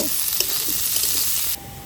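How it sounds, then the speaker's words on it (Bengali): Onions frying in a pan for a homemade biryani, a loud, continuous close sizzle that drops a little near the end, no voices. "এবার পেঁয়াজ ভেজে নিচ্ছি বিরিয়ানিতে দেব"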